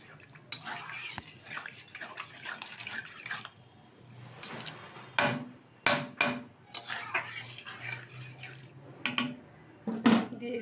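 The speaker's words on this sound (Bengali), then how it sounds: "দিয়ে দিচ্ছি পরিমাণ মতো জল।" Water poured into a pot of Bengali fish curry with cauliflower, potato and lentil dumplings, a splashing, running pour with clinks of utensils against the pot, fairly close and moderately loud.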